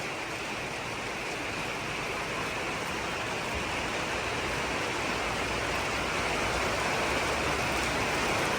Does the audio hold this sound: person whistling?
no